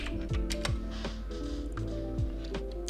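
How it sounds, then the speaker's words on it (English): Typing on a computer keyboard to enter a search in a web browser, with a quick irregular run of close, crisp key clicks and taps standing alone. "you want to go to Google and type in Epic Games"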